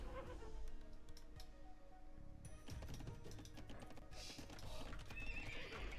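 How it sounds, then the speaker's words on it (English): Horses in the Age of Empires II video game neigh and whinny, with soft hoof clip-clops and quick clicking under a busy, steady bed of game battle sounds. "It's the horses."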